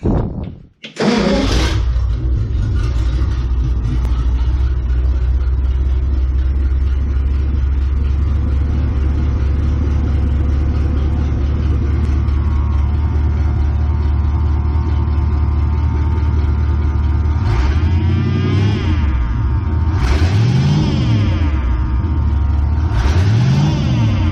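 A supercharged 1959 Studebaker Silver Hawk engine cranks and catches, then settles into a loud, steady idle with a whining supercharger, followed by several sharp revs rising and falling near the end.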